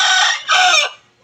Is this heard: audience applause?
no